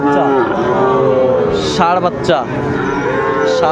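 A young bull calf moos loudly at the Ambari cattle market in Dinajpur, its long drawn-out calls close by and repeated over a crowded, chattering background of people.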